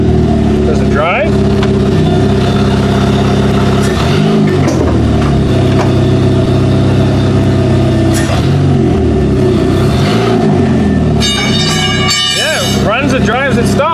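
Repaired Pontiac G6 car after a brake line fix, its engine running steadily and revving as it drives, with a voice talking over the engine noise throughout.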